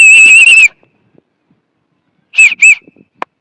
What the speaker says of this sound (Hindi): मैं आपको एक बार सीटी बजा करके दिखाता हूँ कि बजती कैसे